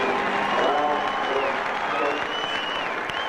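A large crowd at the Indianapolis 500 speedway applauds and cheers Michael Andretti as he comes back around, a dense continuous roar of clapping heard under a commentator's talk.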